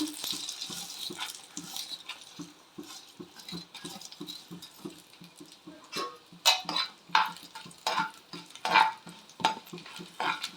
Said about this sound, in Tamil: எண்ணெய் நல்லா காஞ்சிருச்சு பட்டை மிளகாய் வர மிளகாய் சேர்த்துக்கிடுவோம் நெக்ஸ்ட்டு உளுந்து ஆட் பண்ணிக்கிறோம்